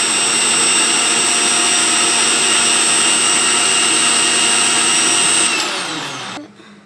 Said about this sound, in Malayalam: നമുക്ക് ഇനി അടിച്ചെടുക്കാം.